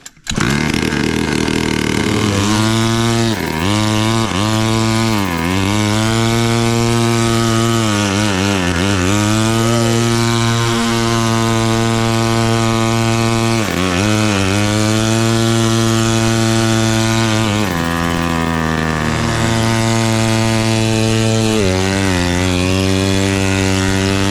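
A turbocharged 50cc drift kart engine doing laps, its loud buzzing whine rising and falling again and again as it revs up and backs off through the corners for the whole stretch.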